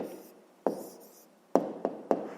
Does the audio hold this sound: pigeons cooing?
no